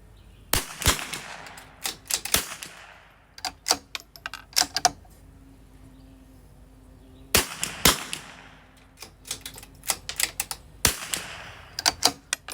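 Shots from a CZ 457 rifle outdoors, several sharp loud cracks in irregular clusters with short ringing tails and gaps of quieter background between them, with no voices.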